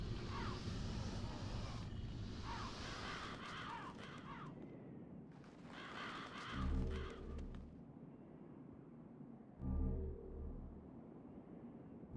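Crows in Demon's Souls let out a burst of overlapping harsh caws, then a second cluster after a short pause, against a windy game ambience with a couple of deep low thuds later on and no clear talking.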